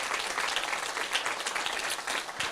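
An audience at a debate applauds, a dense and steady patter of many hands that holds at an even level for a couple of seconds, with no voices over it.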